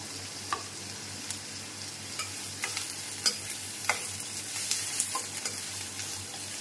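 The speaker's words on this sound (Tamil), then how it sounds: "வெங்காயம் நல்லா வதங்கட்டும்." Onions sauté in a pan with curry leaves and coriander for drumstick masala, giving a soft steady sizzle broken by light scrapes and taps of stirring, with no speech.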